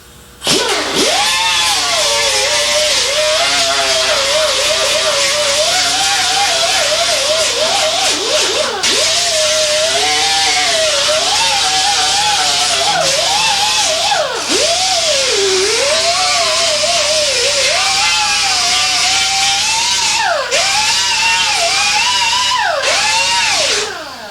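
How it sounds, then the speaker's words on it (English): A small grinder works over rust on a car body panel, giving a loud continuous whining grind whose pitch wavers and dips as the disc bears down, running close and unbroken for the whole stretch. "get the small grinder and find out exactly how bad the rust is"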